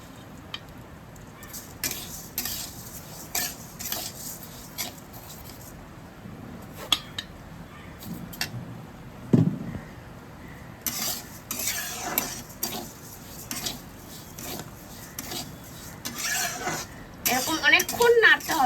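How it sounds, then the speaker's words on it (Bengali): Rice is roasted dry in a wok for laddu while a spoon scrapes and clinks against the metal in repeated stirring strokes, close and clear, with someone talking over parts of it. "এরকম অনেকক্ষণ নাড়তে হবে, নাড়িয়ে নাড়িয়ে নাড়িয়ে নাড়িয়ে পুরো একদম কড়ার মধ্যে সুন্দর একদম ভাজা ভাজা হয়ে যাবে।"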